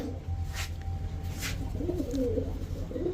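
Pigeons of Pakistani teddy, racer and Damascene breeds coo in soft, low, rolling phrases, several overlapping calls close by over a steady background hum.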